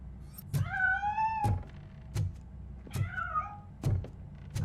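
Inside the RoboCop: Rogue City video game, a cat gives two drawn-out meows, each preceded and followed by sharp thuds and clunks, with scattered knocks between them and no speech.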